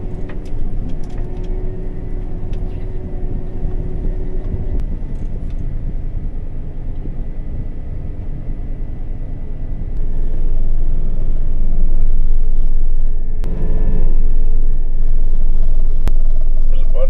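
Cars drive slowly past on a road at night, a steady low engine rumble and road noise that grows louder partway through, heard from inside a vehicle.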